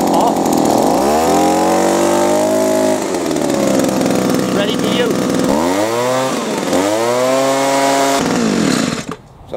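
A brand-new Hyundai HYBV2600X 26cc two-stroke petrol leaf blower engine cold-starts on choke at half throttle, revving loudly with rising and falling pitch swings before being switched off near the end.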